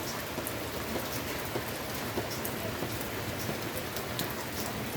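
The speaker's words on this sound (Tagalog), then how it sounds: "maulan ngayon dito sa area namin" Rain falls steadily at a house among potted plants, an even, dense patter of drops with no talking.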